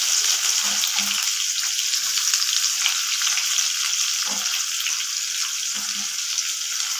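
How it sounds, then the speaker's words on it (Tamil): Steady, loud sizzle of chopped onion, curry leaves and green chilli frying in hot oil, continuous throughout with a few soft low knocks of stirring. "இது நல்லா வதங்கட்டும்."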